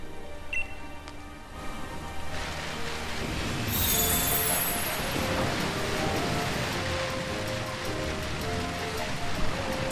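Rain in Pokémon Shield's Isle of Armor: a steady hiss of rainfall that swells a little partway through, continuous and fairly loud, with soft game tones over it.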